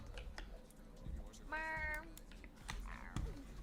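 A video game player meows over voice chat, a single clear human imitation of a cat lasting about half a second, set among keyboard typing and clicking.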